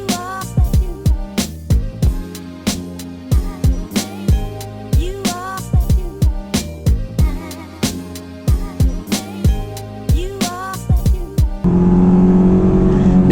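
A Honda S2000 AP2 engine revs repeatedly while driving, rising to about 5,500 RPM in loud, close sweeps with quick gear changes, then settling into a steady drone.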